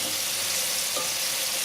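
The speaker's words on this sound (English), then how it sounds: "So what I'm going to do is give it a stir." Steady, close sizzling from callaloo and vegetables cooking in a pot as they're stirred, a continuous hiss with no distinct spoon strokes standing out.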